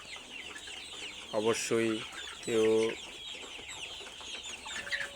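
Brown cock chickens on a farm cluck several times in short harmonic bursts, close and fairly loud, over a background of many distant birds; one person speaks a single word.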